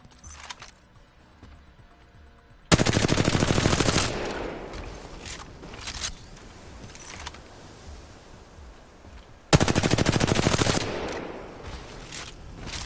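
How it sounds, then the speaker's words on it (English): Automatic 301 rifle fire in a video game firing range, fitted with no barrel stabilizer, two loud sustained bursts of rapid shots, each followed by quieter clicks and mechanical handling sounds. "That's what you're going to get from a 301 without a purple barrel stabilizer"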